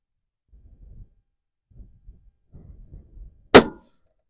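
A bolt-action rifle bullet strikes a steel target at long range, heard as a single sharp metallic clang after a few seconds of faint low rumbling, with no voices.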